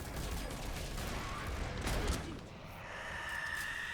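Gunfire in the video game Mass Effect 3: a dense, continuous burst of rapid shots and crackling impacts, fairly loud and unbroken across the few seconds, with a brief surge near the middle.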